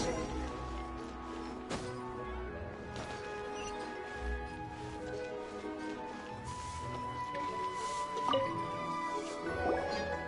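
Water drips in Genshin Impact, soft splashy plinks and squishy droplets scattered over a quiet bed of game ambience and faint tones, a few sharper drops standing out near the end.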